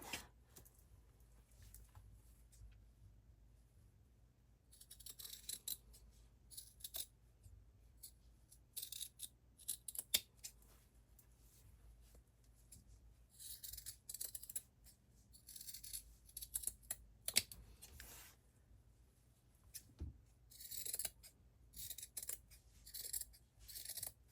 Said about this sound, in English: Trim 4 corners near to the stitching line.